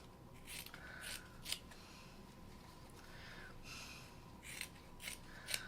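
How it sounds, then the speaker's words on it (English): Scissors rough cut paper pattern pieces for hockey pucks in a series of quick, crisp snips spread across the clip, close but soft against a faint room hiss. "we just rough cut this stuff out here like so"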